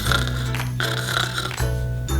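Loud, close snoring fills the space, two long rattling breaths with a brief pause between them and no talk over it.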